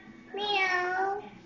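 A young child imitates a cat with one drawn-out, high, tonal meow lasting about a second, close and clear in a quiet room.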